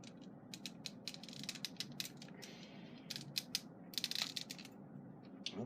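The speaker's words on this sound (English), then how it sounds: "you can just undo these little clips right here, and then this gray piece will come out" Parts of a Nerf Thor blaster are unclipped with a little screwdriver, giving quiet, close plastic clicks and snaps in irregular bursts over low background noise.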